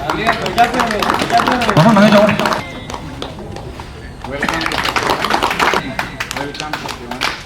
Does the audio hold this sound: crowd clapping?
yes